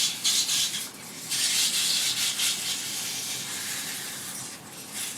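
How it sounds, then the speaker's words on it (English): Steady rasping sanding against spinning wood on a Laguna lathe, rising and easing in a few strokes, close up with no voices. "I'm going to do just a bit of sanding on here"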